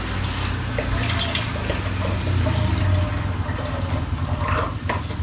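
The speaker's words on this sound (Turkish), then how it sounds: "1 litre süt koyacağız." One litre of milk pours steadily into a pot, a continuous liquid gurgle that stays close and fairly loud for about five seconds, with no talk over it.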